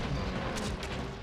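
Explosions in the video game Ratchet and Clank rumble as a dense, muffled burst of booms, with a few sharper blasts layered in a short, continuous roar.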